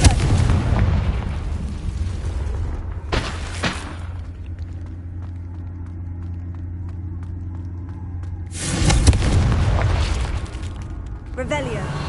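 In Hogwarts Legacy, Confringo blasting-spell explosions go off as loud, booming bursts, one at the start and another near the end, each trailing a long rumble.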